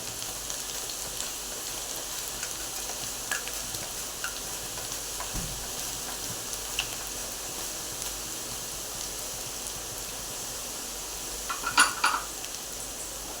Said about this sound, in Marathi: बनाना चिप्स मंद चांगले फ्राय करून घ्यायचे कुरकुरीत